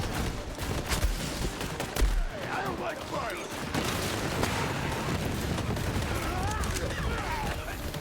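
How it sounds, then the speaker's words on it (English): A rocket blown up by gunfire in the Borderlands video game: rapid bursts of shots and booms crackle steadily throughout, with players talking over the battle. "Oh, the rocket's getting blown up."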